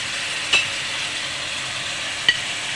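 Egg korma masala with almond paste and sour yogurt being sautéed in a pan hisses steadily up close, with two sharp utensil taps against the pan and no talking.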